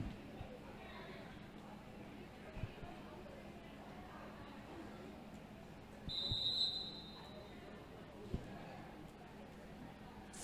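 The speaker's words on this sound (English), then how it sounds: "Four whistles bringing us into an official timeout with 6 minutes, 9 seconds left to our game." Referee whistle blasts signaling an official timeout during a junior roller derby championship game, a brief bright tone around six seconds over loud crowd and arena noise, with talk in the background.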